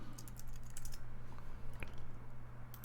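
Rapid clicks of a computer keyboard being typed on at a desk during a live stream, a quiet, irregular pattern of taps over a steady low electrical hum.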